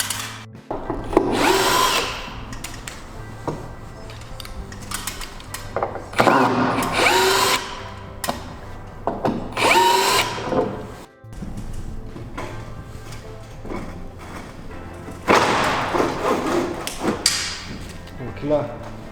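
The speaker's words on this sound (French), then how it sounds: "on va dévisser la planche de rive pour passer derrière" A power drill unscrews the screws from an edge board on a flat roof being fitted with steel sheet roofing. It whirs loudly in several close bursts with thumps and handling noise between them.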